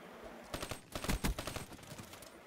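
Rapid gunfire bursts from the XR-2 rifle in a video game, two tight clusters of sharp cracking shots close up, followed by quieter trailing reports.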